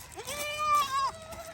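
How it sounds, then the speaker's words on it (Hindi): Daira Din Panah goats bleating on a farm, a single drawn-out, wavering bleat rising and falling over about a second, loud and close, with faint background noise and no talk. "ये जी बकरियां है।"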